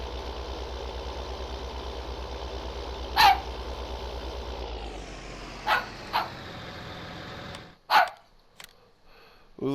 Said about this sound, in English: He's barking at his food.